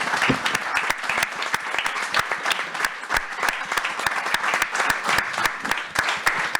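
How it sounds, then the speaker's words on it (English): Audience applause at a business fireside chat, a continuous patter of many hands clapping at an even, lively level with individual sharp claps standing out, no talk over it. "let's take a big applause of this TV star today"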